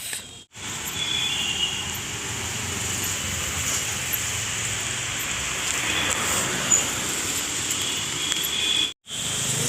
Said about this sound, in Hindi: बारिश तो बंद ही नहीं हो रही है, बारिश कंटिन्यू है।